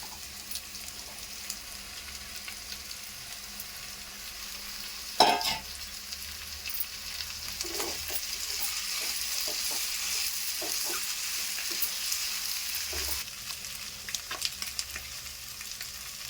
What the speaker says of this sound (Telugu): ఈ అల్లం పేస్ట్ కూడా వేగింది కదండి, దీంట్లో ఈ బోటి వేసేసుకుందాము